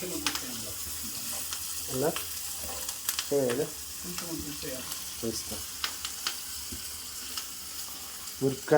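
Green chillies fry in a pan for khatta dal made with moong and red lentils, a steady close sizzle with brief stirring scrapes and occasional clinks throughout.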